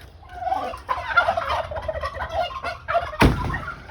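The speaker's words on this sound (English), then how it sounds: "These are new chickens." Young chickens a couple of months old cluck and chatter in their backyard pen, a steady, moderately close run of calls with a sharp thump near the end.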